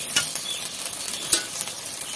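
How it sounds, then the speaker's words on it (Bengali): Figs going into spiced chicken masala frying in oil, with a steady close sizzle and scraping stir strokes, two sharper clatters standing out, no talking. "এবার আমি ডুমুরগুলো দিয়ে দেবো।"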